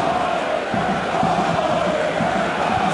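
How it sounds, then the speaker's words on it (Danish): Football spectators at Blue Water Arena during an Esbjerg versus FCK match: a continuous, loud crowd roar with chanting and cheering, steady throughout with no breaks. "Fin opbakning fra tilskuerne på Blue Water Arena"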